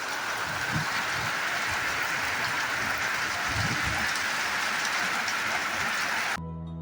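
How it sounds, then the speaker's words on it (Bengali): Heavy rain pours down in a dense, steady roar that does not let up, loud and close, and it cuts off abruptly just before the end. "দেখো কি জোরে বৃষ্টি আসলো বাপরে বাপ চারিদিক অন্ধকার দেখো"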